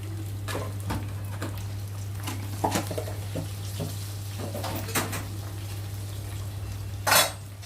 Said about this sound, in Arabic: هنزل بقى بالباميه مجمده كده من الفريزر زي ما هي